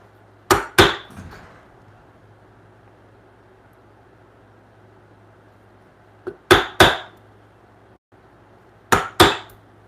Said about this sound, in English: I'm basically going to chisel all the way around this.